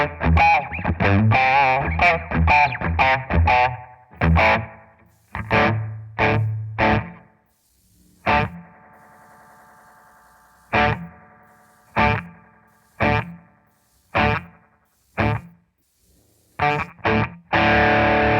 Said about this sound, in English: So that's just the slapback setting with the single delay.